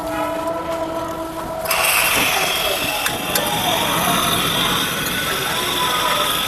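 A portable gas stove lighting with a click, then a loud, steady broadband hiss and roar of the burner close by, continuing without a break.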